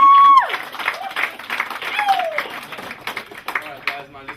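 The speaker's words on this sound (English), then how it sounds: "just a big round of applause for Ashraf" A live audience at a business launch event gives a round of applause for a guest brought onstage. The broadband clapping runs steadily through the clip, with voices and a brief whistle-like cheer at the start.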